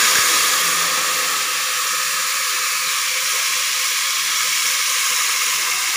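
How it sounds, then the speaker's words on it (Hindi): Water poured into a hot pot of browned onions sets off a loud, steady hiss of steam and sizzle, a continuous rushing sound that stays close and even throughout. "ये हमारा प्याज जो है ये ब्राउन कलर का हो गया, अब इसमें हम पानी ऐड करेंगे।"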